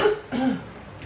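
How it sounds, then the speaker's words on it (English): Two short, close coughs in quick succession, followed by a fainter third. "Do not mean to cough on you guys"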